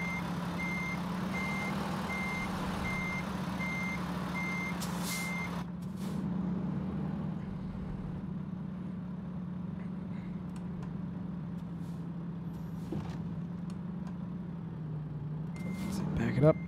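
A truck backs up in a racing game session set around Martinsville, its reversing alarm beeping steadily over a constant low engine drone, then pausing before a few more beeps near the end.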